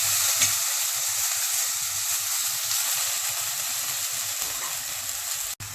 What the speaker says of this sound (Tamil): சாம்பார் வெங்காயம் தக்காளி கற்பூரவள்ளி இதையும் சேர்த்து நல்லா வதக்கிறேன்